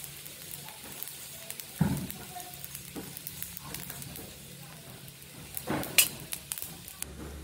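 Sesame and poppy seeds dry-roast in a pan for a spiced wadi, with a faint, quiet crackle and hiss and a few light knocks and stirring scrapes.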